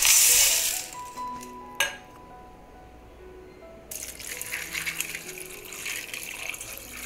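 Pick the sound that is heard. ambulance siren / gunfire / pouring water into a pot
pouring water into a pot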